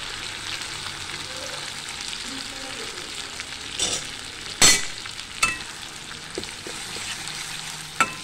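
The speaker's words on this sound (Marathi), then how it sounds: "मी आता हे सगळे मसाले या तेलामध्ये टाकणार आहे" Spices and masala paste for spicy chicken sukka fry in hot oil, giving a steady, close sizzle with a few sharp clinks and stirring knocks.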